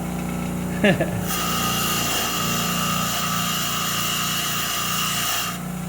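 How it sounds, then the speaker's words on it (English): A bench grinder cleans up the threads of a steel J-bolt for a Ford F150 truck, a steady high whirring grind that runs loud and continuous after a brief clatter at the start. "Hit it up on the bench vise grinder."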